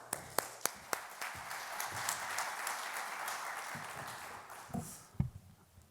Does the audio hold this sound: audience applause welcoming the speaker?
yes